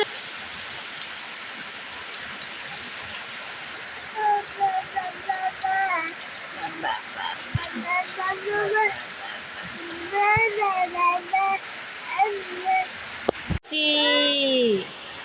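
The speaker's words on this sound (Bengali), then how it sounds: "অনেক বৃষ্টি হচ্ছে আজকে" Heavy rain falling outdoors during several days of downpour: a steady, close hiss of rain runs the whole way beneath a person talking.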